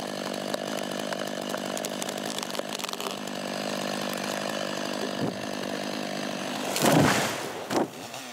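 A chainsaw runs steadily at full throttle throughout, felling a tree in Bercé forest, with a sharp crack and rush near the end as wood gives way.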